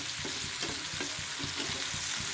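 Onions fry in plenty of hot oil for a mola fish curry, giving a dense, steady sizzle with faint rhythmic stirring taps.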